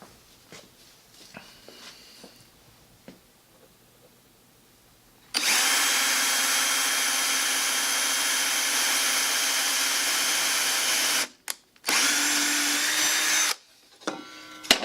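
A power drill bores holes in a wooden board, first some light tapping and handling, then a loud, steady high whine that cuts out briefly twice before running again and stopping.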